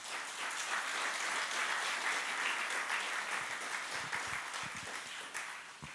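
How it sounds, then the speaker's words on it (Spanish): A congregation applauding in a church, sustained crowd clapping filling the room, steady and moderately loud, tapering slightly toward the end. "Dele un aplauso al Señor."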